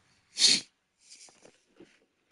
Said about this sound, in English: When you're a man, your sneeze is loud because of your vocal cords.